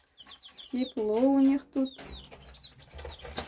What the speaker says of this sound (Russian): Зашла к цыплятам.